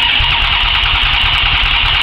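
Buggy fitted with a Toyota Camry V6 engine, run for the first time after a month of sitting unused: a loud, close engine churns with a steady rhythmic pulse throughout, no voices.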